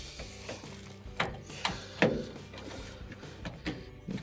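Plastic clicks and clunks as a drain pump is slid and snapped into place inside a Samsung washing machine during repair, several separate sharp knocks spaced irregularly, close up with no talk.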